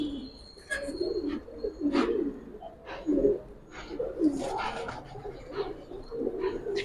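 Giribaz and colouring breed pigeons coo repeatedly in a loft, soft throaty calls rising and falling over several seconds, with scattered chirps and faint background voices.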